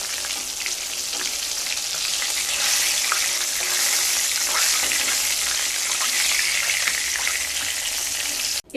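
Rohu fish frying in oil in a pan, a loud continuous sizzle and crackle filling the whole stretch, close and steady without pause.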